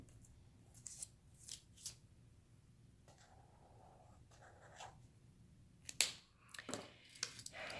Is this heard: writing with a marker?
yes